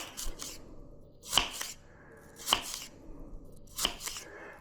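A knife cuts an apple into very thin slices on a cutting board, making three crisp separate cuts spaced about a second apart, close and fairly quiet with no talking.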